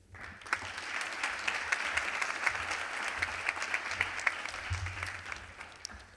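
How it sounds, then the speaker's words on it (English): An audience at a community foundation scholarship award ceremony applauds Bill Lawton, President and CEO of CFCU, with sustained, even clapping that rises quickly and fades at the end, slightly distant in the room. "Please give a round of applause for Bill Lawton, President and CEO of CFCU"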